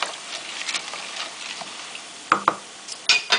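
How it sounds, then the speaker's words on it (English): Pinto beans being stirred in a pot just after chicken stock is poured in, giving a soft wet swishing with a few sharp clicks of the utensil against the pot near the end. "Get a quick stir on my beans."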